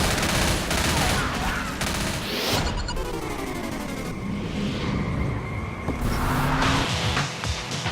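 Rapid bursts of gunfire in the game Left 4 Dead crackle against a dense, loud wash of chaotic action as zombies are mowed down, with repeated shots layered over constant noise.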